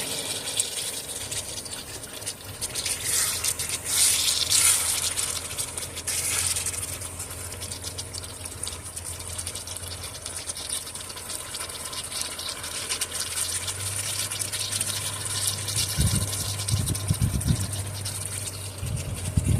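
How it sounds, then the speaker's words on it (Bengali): Chicken pieces for a whole-garlic chicken curry are turned and stirred in a pan, giving soft continuous scraping and a low sizzle at moderate volume with no voices. "এবার মাংসগুলোকে ভালো করে নেড়ে চেড়ে দেবো"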